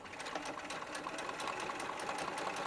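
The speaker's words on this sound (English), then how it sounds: "I'm just going to baste inside the seam allowance to hold that in place" A sewing machine basting the seam of a doll's pants, running in one continuous, steady, close mechanical whir with rapid stitching clicks.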